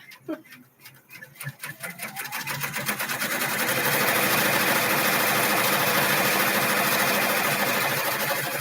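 An embroidery machine stitches a sparklers design, starting with slow separate needle strokes that quickly speed up into a loud, steady rapid whirring hum, with a person's voice partly over it.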